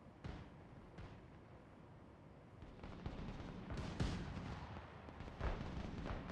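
Units fire weapons in the war strategy game Broken Arrow, giving distant booming artillery-like reports and scattered shots over a low rumbling battlefield bed.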